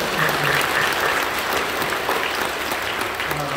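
Applause from a church congregation at a Korean Full Gospel worship service, a dense steady clatter of many hands, loud and sustained throughout with faint voices beneath.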